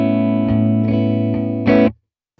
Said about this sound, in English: So without any of the pedals engaged, sounds like this